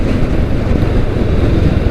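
A BSA 650 Gold Star motorcycle engine lugging in fifth gear at about 80 km/h, below 3000 rpm: a constant, loud, low rumble that is blurred by heavy wind noise.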